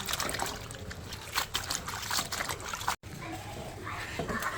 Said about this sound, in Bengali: লেটুস পাতা। প্রথমে ভালো করে ধুয়ে নিব।